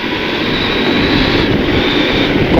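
A 2023 KTM 890 Adventure R motorcycle accelerates hard in a loud, sustained, wind-swept roar heard from the rider's position, with no talking.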